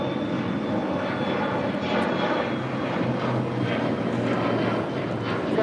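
An airplane takes off at LAX, its steady engine roar rumbling at moderate distance for several seconds with a faint high whine riding on top.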